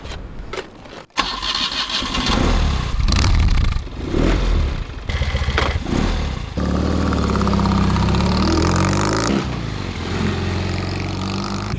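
A BMW R90S boxer motorcycle engine starts up and runs, with loud revving and throttle blips close by before settling into a steady, rumbling idle.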